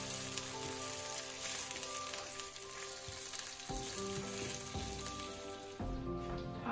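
Chicken fat sizzles and crackles in a pan, set aside for flavoring the rice of Hainanese chicken rice; the frying hiss is steady and close, with a few clinks from the pan and no talk.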